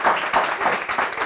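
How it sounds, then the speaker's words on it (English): Audience members at a gathering about women firefighters and security services clap together in a quick, even rhythm, with about four sharp collective claps in a short burst. "Clap for yourselves again."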